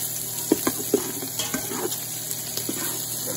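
Sausage fries in a pan while being stirred, with a soft continuous sizzle broken by a few sharp clicks and scrapes from the utensil, heard close and fairly quiet.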